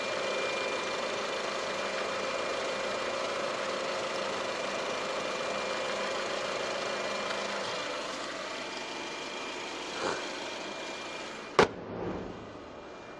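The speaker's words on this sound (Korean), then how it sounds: "이제 바로 엔진 소리 한번 살펴봐 드릴게요." Jaguar New XF 2.0 Luxury idling with the hood open, a steady, smooth and quiet engine hum heard up close, broken near the end by a couple of brief sharp knocks.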